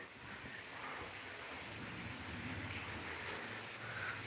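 Rain falls in a village, a faint, even hiss of drops that holds steady throughout with no voices.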